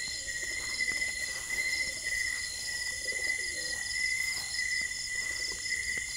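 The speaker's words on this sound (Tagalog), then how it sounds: "Ay, may mga kalapati." Pigeons coo softly in the background of a house, low repeated calls mixed with a steady drone of crickets and insects, fairly faint and without talking.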